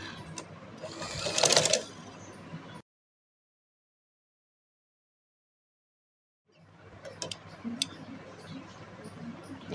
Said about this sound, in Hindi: सिलाई लगा दूँगी।